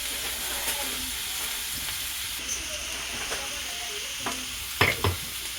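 Garlic and onion fry in a pan under a steady close sizzle, with occasional stirring scrapes and a few sharper clinks of the utensil near the end.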